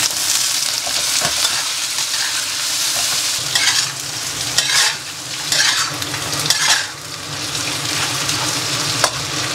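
Pork spare ribs fry and sizzle in a wok with melted rock sugar, a steady loud hiss broken by repeated scraping stirs of the spatula throughout.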